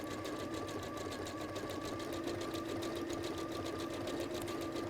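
Sewing machine running a decorative stitch, a fast, even mechanical whir and needle chatter heard close and alone, with no talk.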